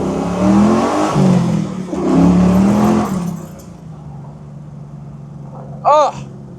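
A 425-horsepower LS3 V8 in a 1969 Chevy Camaro convertible restomod revs loudly for about three seconds in rising and falling bursts, then settles to a low idle rumble with a brief sharp chirp near the end.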